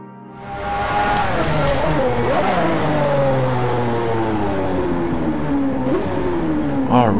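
A Lamborghini Aventador LP720-4 50° Anniversario V12 in the racing game Driveclub revs up from idle and holds a loud, steady drone, its pitch rising and dipping through gear changes.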